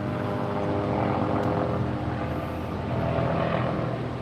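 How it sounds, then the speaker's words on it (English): Police helicopter circling above a Las Vegas street at night, a steady droning rotor and engine hum that stays constant and moderately loud throughout without fading. "We got the police helicopter up."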